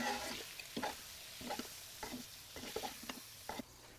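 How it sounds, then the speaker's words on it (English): A slotted spoon scoops shrimp and sausage out of a pan with rendered fat, making quiet, close metallic scrapes in a loose rhythm of about one every second over a soft sizzle. "I am using a slotted spoon because I want to leave all of that rendered fat and those seasonings behind."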